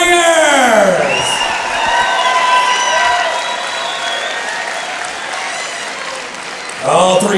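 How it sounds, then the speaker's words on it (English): Fight crowd at a combat sports event applauding and cheering two fighters after a close three-round bout, loud continuous clapping with whoops and sliding shouted cheers, fading slightly before a final burst of voices. "Let's hear it for both these warriors."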